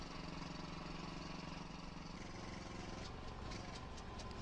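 An old dozer engine in Farming Simulator 19 runs with a steady low mechanical chug throughout, its tone shifting partway as it catches and settles into running; no voices.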